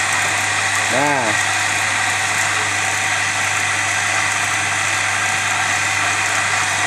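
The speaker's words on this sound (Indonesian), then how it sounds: "Kalau seandainya pisau itu tumpul, cara mempertajam begini." Small cutting disc from a welding shop grinder sharpening the blade of a homemade meat slicer, a steady loud broadband whine with a low motor hum running throughout, with a short spoken word near the start.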